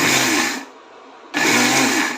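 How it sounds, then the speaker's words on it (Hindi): An electric kitchen grinder coarsely milling sesame and poppy seeds, a loud whirring buzz that runs, stops briefly for well under a second, then starts again at full strength. "हमारा तिल और खसखस भी हम पीस लेंगे,"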